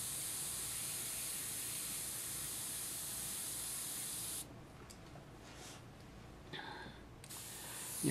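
A spray bottle mists in one continuous, close hiss lasting about four seconds, then stops. Faint light handling noises follow in the quiet.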